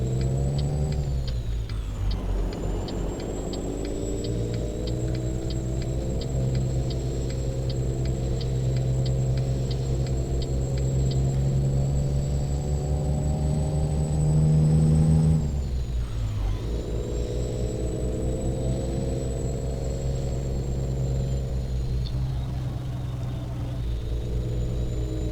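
Truck engine in Euro Truck Simulator 2 droning steadily throughout, with a rapid ticking in the opening seconds, a brief rise in revs, and a drop near the middle as the truck shifts gears or brakes.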